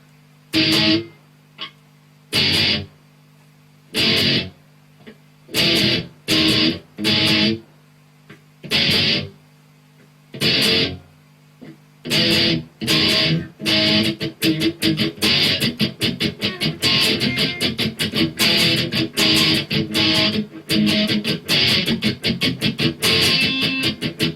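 Distorted electric guitar chugging power chords, first in spaced stabs with silences between, then a faster, continuous driving rhythm; loud and close.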